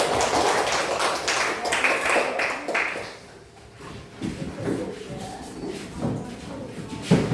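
A classroom of students claps in a short burst, scattered close claps that fade into a brief lull, followed by softer taps and shuffling sounds.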